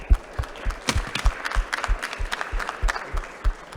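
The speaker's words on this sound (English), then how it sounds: "we give a warm applause to our distinguished panelists" A small workshop audience gives the panelists applause, a sparse group of distinct, uneven claps close to the microphone, thinner than a large crowd.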